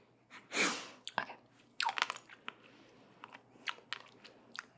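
Close, crisp chewing and biting on a suck-and-chew candy, with several sharp crunchy bites followed by softer wet mouth sounds and light breaths in a quiet setting.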